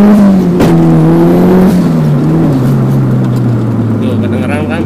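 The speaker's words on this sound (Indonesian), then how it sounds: "Itu adalah bunyi mental, bunyi si knalpot yang mentok ke atas." A Mitsubishi Evo pulls hard under acceleration, its loud engine note climbing then dropping between gears, with a dull booming knock from the exhaust hitting upward against the body.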